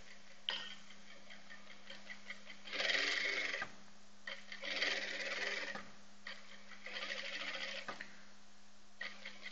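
A sewing machine stitches a half-foot seam during a practice exercise, running in three distinct bursts of rapid ticking with pauses between, alone and close against a steady low hum.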